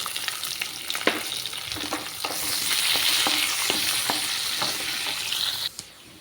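Onions fry in a pan for thotkura pappu, a lentil dish with amaranth greens. A close, rising sizzle runs under repeated ladle taps and scrapes, swelling in the middle and cutting off near the end.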